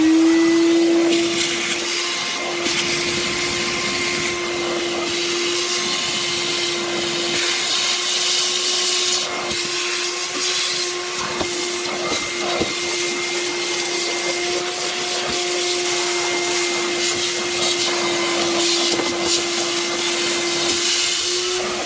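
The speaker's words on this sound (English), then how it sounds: "What I do is I shop vac the final drain out." A shop vac sucks the last drain water out of an older Hot Springs hot tub, a steady loud droning whine with a strong constant tone running unbroken throughout.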